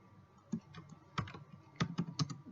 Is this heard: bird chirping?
no